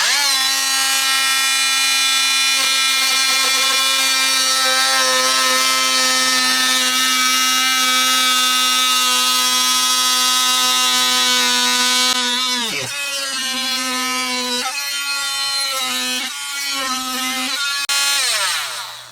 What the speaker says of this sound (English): I'm using a Dremel Multimax tool. It's oscillating saw.